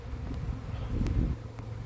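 A swarm of honeybees fills the air around a fallen branch during a swarm capture, a continuous close buzzing drone that swells and thins briefly, with a few sharp rustles over it.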